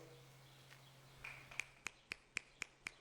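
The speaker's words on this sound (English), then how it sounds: "Got to get the finger snap for that." Finger snaps at an artist talk, about six crisp, evenly spaced snaps in a steady rhythm, close and distinct against a quiet room hum.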